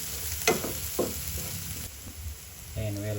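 Chili drops into a hot pan of buttered-garlic vegetables with shrimp, bringing a continuous close sizzle with a few sharp clatters of a utensil stirring against the pan.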